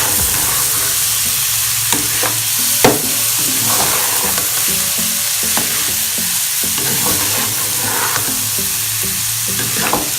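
Daal mash lentils are stirred and fried in a pan, giving a steady sizzle with repeated scraping and clinking strokes of the spoon at an uneven rhythm, close and fairly loud, without speech.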